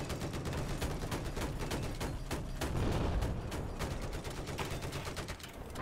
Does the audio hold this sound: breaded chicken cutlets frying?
no